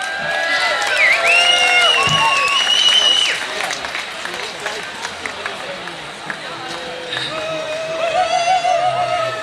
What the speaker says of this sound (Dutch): Alsjeblieft jullie applaus voor Mijn Carboon!